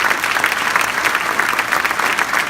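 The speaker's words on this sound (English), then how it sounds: "So big round of applause for our program tonight." An audience at a high school volleyball banquet claps loudly and steadily, a dense, sustained burst of applause from a roomful of people with no voices on top.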